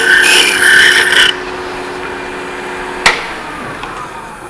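A skew chisel cuts wood on a lathe at a woodturning club meeting, giving a rough scraping rasp for just over a second, then quieter spinning hum broken by one sharp knock.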